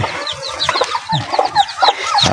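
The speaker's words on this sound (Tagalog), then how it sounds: "Ito mayroon ng sisiw mga idol." Hens cluck and chicks peep on a farm, a busy overlapping chorus of short, close chirps and clucks with no talking.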